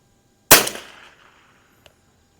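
A single sharp rifle shot from a first-year 1931 Winchester Model 61 fired at a paper target, loud and close with a fast decaying ring, followed by a couple of faint small clicks afterward.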